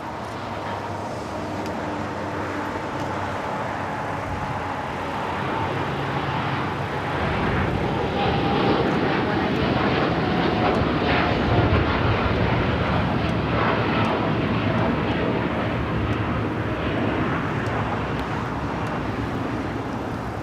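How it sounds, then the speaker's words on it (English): A United Boeing Dreamliner jet rolls down runway 25R at LAX, its engine roar a steady broadband rumble that swells and holds loud through the stretch, with faint traffic noise underneath. "We got a United Dreamliner rolling down the 25 right."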